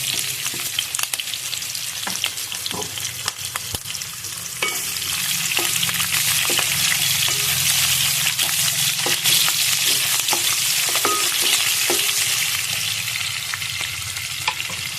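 Chicken fries with thinly sliced onions and green chilies in hot oil, giving a loud continuous sizzle broken by repeated clicks and scrapes of stirring, with no voices.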